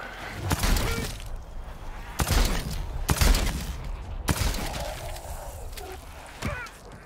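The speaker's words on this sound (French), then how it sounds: "J'ai envie de tester le fusil à pompe" Shotgun blasts from the zombie game Dead Island 2 boom out one after another in heavy, loud bursts, roughly five of them, spaced a second or so apart over a busy game soundscape.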